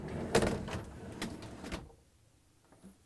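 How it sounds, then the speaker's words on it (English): Freezer door of a Samsung refrigerator being opened, a close scraping slide and clunk with a few knocks, then near silence and a faint final tap. "Next, I'm going to open the freezer door"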